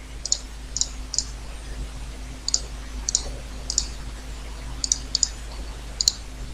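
A computer mouse clicks sharply in short single and double presses, around ten crisp clicks spread unevenly over several seconds against a low steady hum, close up and without talk.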